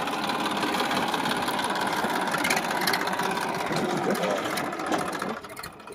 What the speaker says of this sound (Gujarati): તો ટ્રેક્ટર આવી ગયું છે.